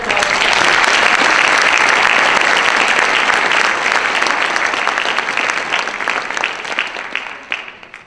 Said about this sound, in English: So a big round of applause for all of our students.